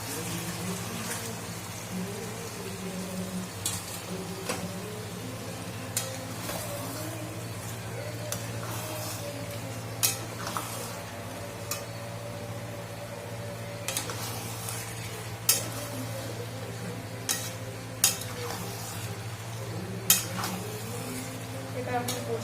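Meat and potatoes sizzle in a pan of spiced masala with a steady, rain-like hiss, while a spoon scrapes and clinks against the pan at irregular intervals.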